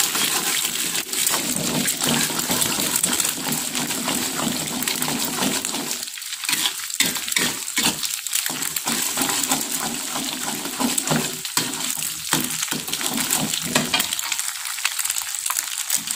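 Eggs and long beans stir-fry in a hot pan, a continuous loud sizzle broken by repeated scraping and stirring strokes, with no talk over it.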